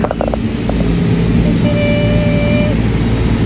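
A car engine runs steadily and close by, a continuous low rumble with a brief faint tone partway through, the vehicle being left behind as its owner departs France.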